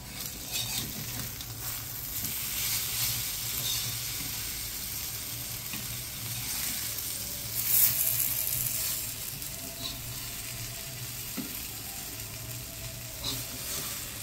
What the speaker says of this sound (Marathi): मंडळी, आपण आता सगळी भेंडी परतून घेऊया